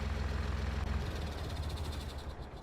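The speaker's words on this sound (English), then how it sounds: "Sounds like a propane engine to me, or like, you know, like a golf cart engine or like a battery powered engine" A vehicle engine running in Farming Simulator 19, a light, buzzy motor like a propane or golf cart engine, steady and moderately close with a pulsing low drone that smooths out partway through.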